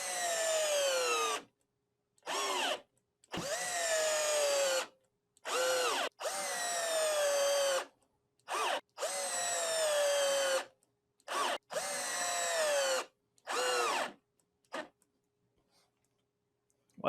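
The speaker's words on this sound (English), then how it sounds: "The 12-volt brushless skill." Skil 12-volt brushless drill running in a series of short and longer whirring bursts, each with a rising then falling motor whine, separated by brief silences, close and loud, ending quiet.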